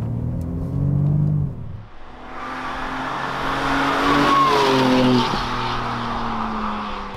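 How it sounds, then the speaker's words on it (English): 2021 BMW M3 Competition being driven: a loud, close engine that revs up through the gears, with a brief dip at a shift, then climbing again with a strong, rising exhaust note. "Now let's go out and drive this M3"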